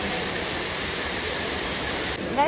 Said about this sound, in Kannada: ಅಲ್ಲಿ ಫಾಲ್ಸ್ ಕಾಣಿಸ್ತಿದೆ ಎಲ್ಲ